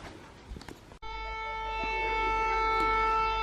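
Air raid siren wails, starting abruptly after a second of muffled background noise and holding a steady rising tone, loud and sustained, with faint voices before it begins.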